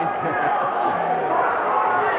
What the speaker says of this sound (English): Crowd here enjoying these two young cruiserweights, pro debut for each of them.